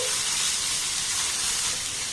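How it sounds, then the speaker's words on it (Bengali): Potato-and-flour dough snack ingredients stir-fried in a pan over a low gas flame, giving a steady, close broadband sizzle and hiss that holds level throughout, with no talk over it. "একটু নাড়াচাড়া করে ভেজে নিতে হবে"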